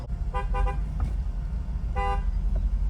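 A car horn toots in short bursts on a road trip through the Svaneti mountains, a quick cluster of honks followed by another short pair over a low engine rumble.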